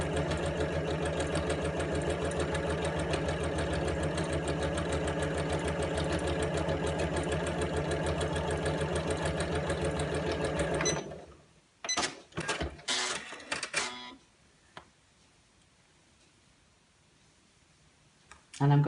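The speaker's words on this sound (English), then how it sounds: "Use the outside of the presser foot as a guide to run along this edge, and just sew these two together with right sides facing" A sewing machine runs a straight stitch joining two fabric pieces for a tablet case, a fast steady mechanical whir and clatter for about eleven seconds before stopping, followed by handling clicks and a brief restart at the end.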